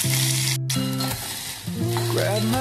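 Chopped onion added to hot oil with cumin, mustard seeds and curry leaves for a potato bhaji, a loud continuous sizzle and crackle close up in the pan, with no talking.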